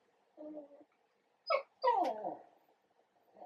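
A miserable dog whimpering and letting out mournful howl-like cries: a short whine, then a sharp yelp and a longer wavering wail, fairly close and with no talking.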